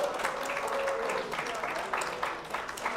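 An audience at a tabletop wargaming tournament hall claps in a continuous, moderately distant patter of applause, with a commentator talking over it.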